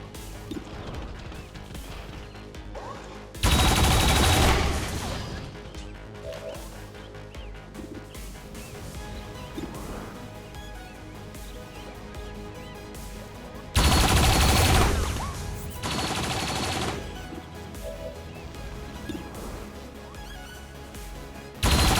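Automated defense turrets in XCOM 2: War of the Chosen open fire in two loud, dense bursts of gunfire, each lasting a couple of seconds, separated by quieter game ambience and effects.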